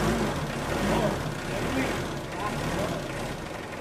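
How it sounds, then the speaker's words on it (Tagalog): A Mitsubishi Adventure engine idles steadily after starting, with a worn muffler pipe and leaking manifold gaskets, a continuous rough low rumble that stays loud and close throughout. "pwede nang start itong makina"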